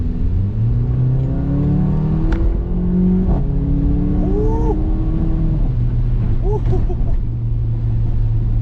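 A Mercedes CLA 45 AMG in sport mode accelerates hard, its engine a loud, continuous drone that rises in pitch through gear changes, heard from inside the car.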